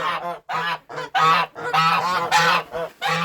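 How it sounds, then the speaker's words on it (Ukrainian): A gander honks repeatedly at close range while attacking, a series of loud, harsh, nasal calls with brief pauses between them. "О, о, гусак, гусак уже нападає."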